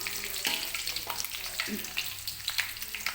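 Shallots stir-frying in hot oil with galangal, bay leaves and lemongrass for lontong sayur, giving a steady close sizzle with scraping stirs and soft clatters throughout.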